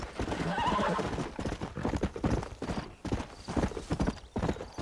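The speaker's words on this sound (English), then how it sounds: "I thought I heard another horse." In the video game Red Dead Redemption, a horse whinnies loudly, followed by a steady rhythm of hooves clip-clopping close by.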